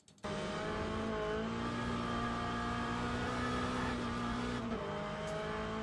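Race car engine in a sim racing game, a loud steady high-revving drone with strong harmonic tones that holds throughout, with a brief dip in pitch near the end as the car is pushed hard.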